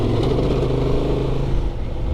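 A 2024 Honda Transalp XL 750 motorcycle pulls away in third gear through desert sand washes, its engine a steady, close, low rumble that holds throughout.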